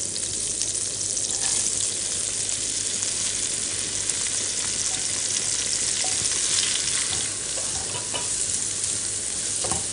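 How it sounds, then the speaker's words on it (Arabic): Chopped onion sautéing in butter for a saffron cream shrimp stew, a loud, dense and unbroken sizzle close to the pan, with faint scrapes of stirring and no speech. "حبتدي أشوح البصل مع الزبدة"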